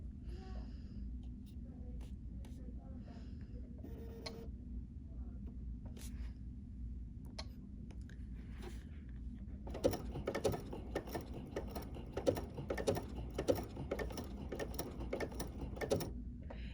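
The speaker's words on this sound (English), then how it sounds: "then I slow the speed of my machine down and then continue sewing the crystal onto the machine" A Bernina 880 Plus sewing machine stitches a crystal onto a bling bracelet, a low motor hum joined halfway by a fast ticking, clattering needle rhythm as the stitching continues at slow speed.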